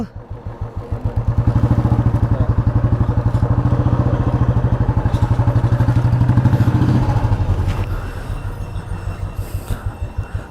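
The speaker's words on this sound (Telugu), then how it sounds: "ఇప్పుడు మేము 4 బైక్స్ కలిపి కార్దూంగ్లో వెళ్తున్నాం." Loud, close engine drone with a rapid pulsing beat of four motorcycles riding together on the Khardung La mountain road in Ladakh, holding steady then easing off slightly near the end.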